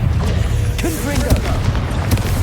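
The Confringo fire spell blasts in the Hogwarts Legacy video game inside a catacomb tomb, with a few heavy booming impacts and crackles under a spoken voice.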